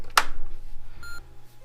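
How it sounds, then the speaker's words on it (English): A sharp click, then a single short electronic startup beep from a TI-99/4A computer, clear and close, in an otherwise quiet room. "I heard a beep too, which is great."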